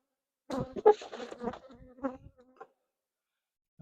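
Honey bees at an open two-queen hive buzz close by in short, uneven bursts of droning that fade into quiet after a couple of seconds.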